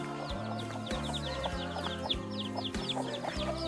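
Chickens cluck in a backyard coop, a steady run of short, overlapping calls from several hens close by, with rhythmic low thumps and a busy farmyard background beneath them.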